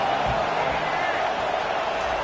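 Loud, sustained roar of a college football stadium crowd in NCAA 25, Boise State against Oregon, a dense unbroken wall of cheering with a faint commentator voice underneath.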